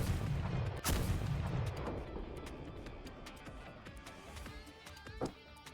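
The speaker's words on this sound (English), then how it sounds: "Port broadside fire." Ship cannons in Arknights fire a port broadside, a heavy boom at the start followed by a series of sharper, distant cracks and rumbling blasts that fade away.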